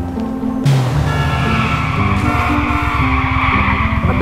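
A motorbike engine revs loudly in a video game, with tire skidding and squealing as the engine note climbs and holds steady, continuous and close.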